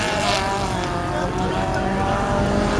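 Off-road race cars on a dirt track in a French championship chase race with very light chassis, engines roaring continuously and loudly at a distance, layered revving with no break.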